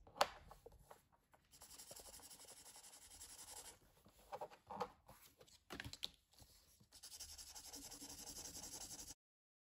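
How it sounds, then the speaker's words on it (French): An alcohol marker rubs back and forth across paper, making soft scratchy strokes in irregular bursts with short pauses, close and quiet. "on va prendre notre feutre à alcool et on va venir tout simplement colorier la surface"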